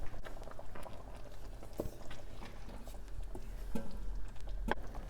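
Channa masala gravy bubbling on a stove, soft irregular pops and blips at close range with a low steady background hum, no talking.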